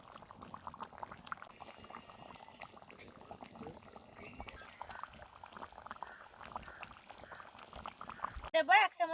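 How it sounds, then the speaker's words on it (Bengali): Water saved from boiling taro is poured into a pan of spiced katla fish curry, making a continuous liquid pour over faint bubbling, ending in a brief splash and clatter. "এবার কচু সিদ্ধ করে রাখা যে জলটা ছিল এটা দিয়ে দেব।"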